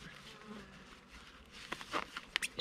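Honeybees buzzing around hives in a beekeeping setting, a soft, close drone of insect wings with a few louder buzzing passes toward the end.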